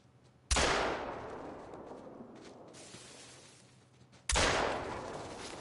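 Two loud hunting-rifle shots from the video game The Hunter: Call of the Wild, each a sharp crack with a long rolling echo that trails away, spaced a few seconds apart.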